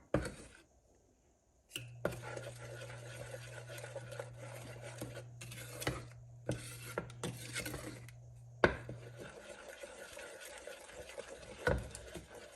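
Pecan pie filling being stirred in a pot, soft scraping and sloshing strokes with occasional knocks against the metal, quiet and close, under a low steady hum from the stove.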